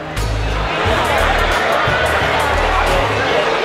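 Crowd murmur in a packed gym after a basketball game won by Walnut Ridge, with a dense steady babble of many voices throughout and a low rumbling hum beneath.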